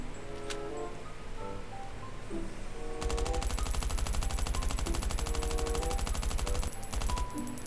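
Automatic gunfire at a car in the survival video game Last Island of Survival: a few scattered shots, then a sustained rapid burst of close, loud rounds for several seconds over faint game ambience.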